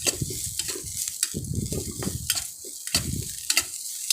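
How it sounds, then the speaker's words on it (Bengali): Turmeric paste is sautéed in a pan for a Bengali pointed gourd dish, with a soft sizzle under repeated close scraping stir strokes in an uneven rhythm. "হলুদ বাটাটা দিয়ে দিলাম। এবার এটা একটু আমরা কষিয়ে নেব।"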